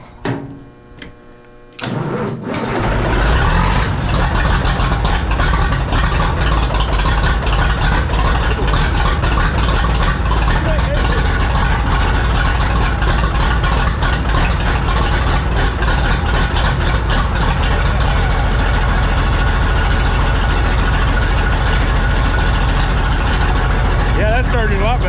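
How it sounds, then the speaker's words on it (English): A cold diesel engine on an MM G950 Heritage tractor cranks briefly, catches, and settles into a loud, steady, clattering idle that runs continuously and close up. "That's a cold diesel warming up."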